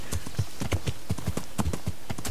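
Horse hooves gallop in Kingdom Come: Deliverance, a fast, steady clip-clop rhythm of close, crisp impacts repeating throughout with no talk over it.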